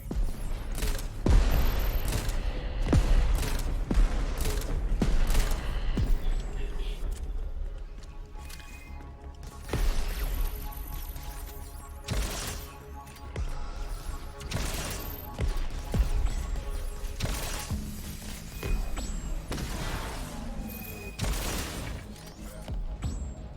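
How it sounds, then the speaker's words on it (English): Grenade launcher firing explosive rounds in the video game Crackdown 3, with loud booming blasts and crashing detonations in rapid bursts amid continuous chaotic gunfire, near and dense throughout. "Grenade launcher. Such a classic. Loaded with explosives and fire away."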